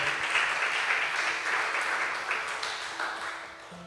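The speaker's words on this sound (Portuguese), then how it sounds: "Quem pode aplaudir o Senhor?" Church congregation applauding during a bishop's sermon, a steady broadband wash of many hands clapping throughout, fairly loud and sustained with no talk over it.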